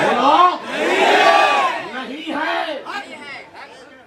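Ya Hussain slogans chanted by a large crowd in loud, rhythmic bursts, the massed voices rising and falling together with short gaps between shouts.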